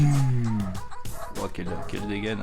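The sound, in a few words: excited dog barking in background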